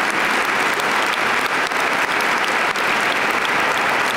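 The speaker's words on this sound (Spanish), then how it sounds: "quisiera que diéramos un aplauso al director de Elal" An audience in a Madrid cathedral applauds, a dense, steady and fairly loud clapping that lasts the whole stretch without pause and carries no audible talk.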